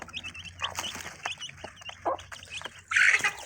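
A hen with her chicks clucks and peeps close by, a flurry of short high chirps over low clucking, ending in a louder, harsher squawk.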